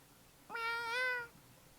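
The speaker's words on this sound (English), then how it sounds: "Rolo said, meow, meow." A single clear cat meow from the video game Tales of Xillia 2, one rising-then-falling call of about a second, close and alone with no talk.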